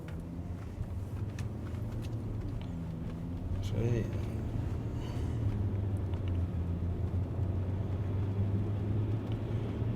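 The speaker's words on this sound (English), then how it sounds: "Another thing we noticed at idle, as soon as you start it, it's a bit lumpy." A 2014 VW Touareg 3.0 V6 TDI idles unevenly with a misfire, producing a low, steady diesel rumble that sits under a person talking over it.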